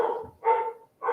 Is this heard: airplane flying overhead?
no